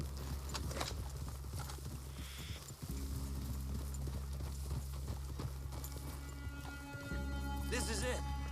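Horses' hooves clip-clop in Red Dead Redemption 2, a soft uneven patter of steps under a low game drone, with voices talking and a short whinny-like sound near the end.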